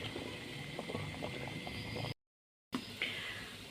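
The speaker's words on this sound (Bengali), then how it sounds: "এই জন্য আলু সিদ্ধ করে নিচ্ছি" Potatoes bubbling in a pot of boiling water, a soft, steady simmering burble heard close, briefly cut to silence before the bubbling resumes.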